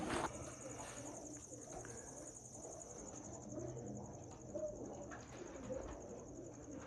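Breeder pigeons cooing steadily at a loft, a continuous low murmur of overlapping coos with faint insect-like hiss in the background and no talk.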